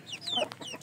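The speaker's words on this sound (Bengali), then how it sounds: "আমার ছোট ছোট দুটি মুরগির বাচ্চা হয়েছে।" A brief moment of a mother hen with two newly hatched chicks: quick, thin, high peeps and a soft cluck, close by and fairly faint, lasting under a second.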